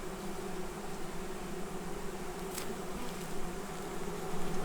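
Honey bees packed inside a shipping package give off a steady, close, even hum that holds unbroken throughout, with no voices over it.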